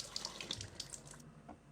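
Hot water runs steadily from a tap into a large Belfast sink in a converted green bus kitchen, a close, continuous splashing hiss with no talk.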